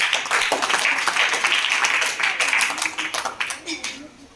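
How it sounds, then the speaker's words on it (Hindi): Hands clap in a classroom, a run of quick sharp claps that grows into separate spaced claps toward the end, with a voice speaking over part of it. "एक अंक 2 अंक है, तो हम ताली बजा दो।"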